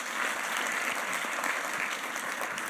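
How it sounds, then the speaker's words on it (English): Audience applause for a panel at a conference program on China, a steady dense clapping from a crowd that continues evenly throughout without any voices over it. "Please give a round of applause for the panel and the panelists."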